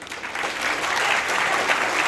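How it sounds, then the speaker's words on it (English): A book festival audience in Edinburgh breaks into applause, and the clapping swells from a thin start into a full, sustained ovation across the hall. "It is a performance that needs to be applauded as a major triumph."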